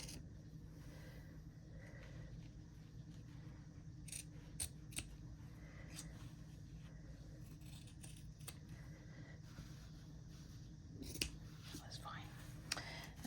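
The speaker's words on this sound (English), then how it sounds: "Trim off our edges of our fabric." Scissors trimming the fabric edges of a quilt-as-you-go dish mat, quiet scattered snips and rustling cloth at close range, a few sharper cuts toward the end, over a low steady room hum.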